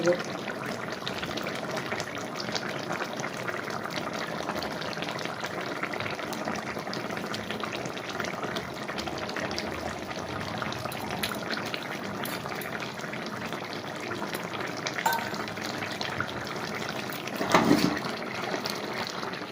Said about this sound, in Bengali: মাছটা আমার খুব ভালোভাবে ফুটে গেছে